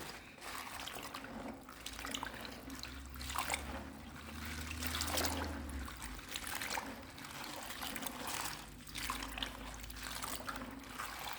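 Tap water runs steadily into a basin, filling a fresh bath for rinsing organic garden spinach leaves, a continuous close trickle and splash with gentle surges and no talking.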